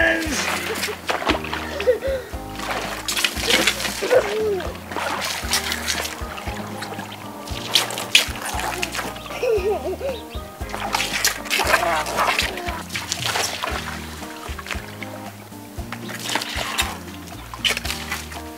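Toy water guns spray and splash in repeated bursts while excited voices and background sound carry on over the spraying.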